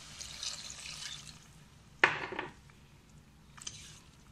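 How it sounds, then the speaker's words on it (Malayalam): A cup of water is poured into a simmering okra curry in a pan. There is one quick splash, then a faint trickle and settling, all quiet against low kitchen background noise. "ഇനി ഒരു കപ്പ് വെള്ളം ചേർക്കാൻ പോവാണ് ഇതിലേക്ക്"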